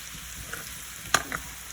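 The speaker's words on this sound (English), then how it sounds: "Let it cook on low so that the potatoes cook all the way through without burning" Potatoes sautéing in a covered pan on low heat give a soft, steady sizzle, with a sharp clink of a spoon against the pan and a couple of quieter scrapes partway through.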